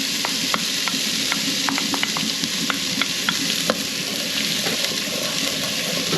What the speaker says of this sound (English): I'm going to get the onions in. There's the sizzle.